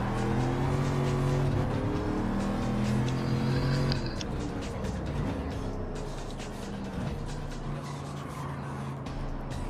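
A Ford Mustang in Gran Turismo 7 sliding on a dirt surface, its engine droning steadily over gritty tire scrub and skidding noise, close and continuous throughout.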